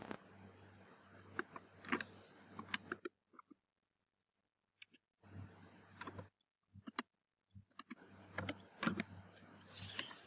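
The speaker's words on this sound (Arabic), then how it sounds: "نكتب الباسورد مرة ثانية" A password is typed on a computer keyboard in scattered clusters of soft clicks, separated by near-silent gaps and a low background hum, close and quiet.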